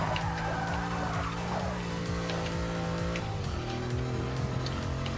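A car engine in Forza Motorsport 6 revs hard and high with harmonic whine, pitch rising and shifting in stepped surges, with faint tire squeal over a continuous loud drone.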